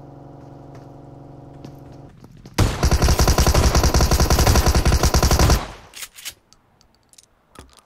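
Automatic rifle fire in PUBG Mobile solo ranked play, a loud sustained burst of rapid shots lasting about three seconds, followed by a few scattered quieter shots and clatter.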